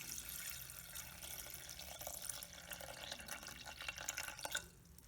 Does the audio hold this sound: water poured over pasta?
yes